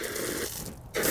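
Water runs from a hose into an RV fresh water tank through the freshwater connection, a steady rushing flow that briefly softens near the end before surging again at close range.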